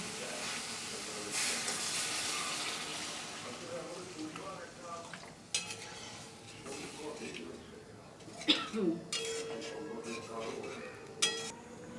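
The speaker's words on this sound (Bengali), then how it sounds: "এবার আমি পরিমাণ মতো জল দিয়ে দিচ্ছি" Water poured into a hot pan of cooked-down masala for a rohu fish oil-jhal curry sends up a loud burst of steamy hiss and sizzle, followed by quieter bubbling, a few utensil clinks, and scrapes.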